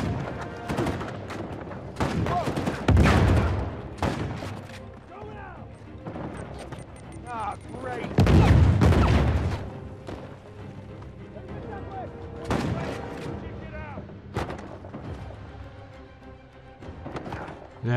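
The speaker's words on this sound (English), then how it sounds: "We got ourselves a grenade launcher." A grenade launcher firing in Uncharted 4: A Thief's End, heavy booming explosions and gunfire bursts, loud and close, recurring several times amid combat noise.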